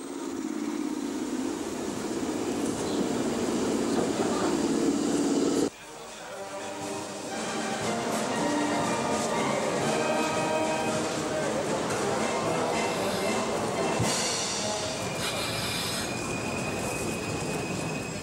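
A Berlin S-Bahn train runs close by with a steady rolling rumble and clatter of wheels on track, a sharp break partway through, then squeals and rattles of the carriages continuing to the end.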